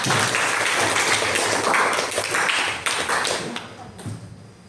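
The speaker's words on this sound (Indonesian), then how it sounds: "Tepuk tangan ya" A class claps for a correct answer in a maths lesson, a short spell of scattered clapping and taps that thins out and fades toward the end.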